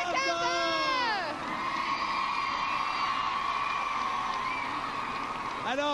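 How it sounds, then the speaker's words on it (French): A comedy gala audience cheers and shouts loudly, with whooping voices rising at the start and again at the end over a steady roar of applause. "On applaudit"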